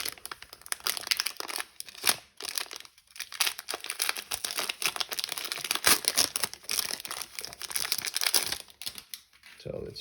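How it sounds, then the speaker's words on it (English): Baseball card packs from a 2022 Bowman Draft Lite box being torn open, with steady close crinkling and rustling of foil wrappers throughout and a few sharper tearing bursts. "So let's open a few packs"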